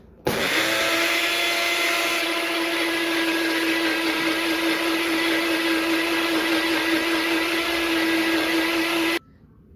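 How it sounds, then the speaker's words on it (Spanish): A Magic Bullet food processor blends eggshells, its motor whirring loudly and steadily for about nine seconds before cutting off abruptly. "esto es un procesador que yo tengo, una Magic Bullet"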